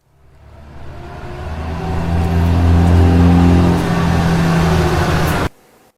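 A dump truck's engine builds from quiet to a loud, low rumble as it drives and revs, holding steady for several seconds before stopping suddenly.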